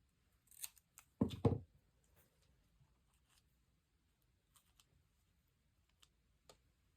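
Scissors snip through paper for a Christmas tree junk journal page, a few quick close cuts early on, then quiet with faint small ticks and handling sounds.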